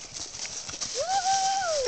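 Horse hooves clip-clop during a ride in Orizona, a steady rhythm over background noise, with a high, drawn-out whinny-like tone rising in the second half.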